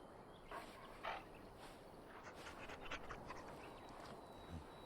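A dog pants in the fantasy role-playing game Dragon Age Origins: soft, breathy bursts sit faint and low under a steady background hum, with no talking.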